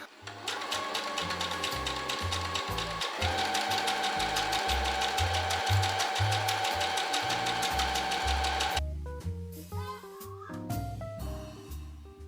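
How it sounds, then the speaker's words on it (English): A sewing machine runs steadily, sewing two parallel rows of basting stitches on dress sleeves, a fast even mechanical whir, close and continuous, then slowing into a few separate clunks at the end. "sew from notch to notch, again 2 parallel rows of basting stitches"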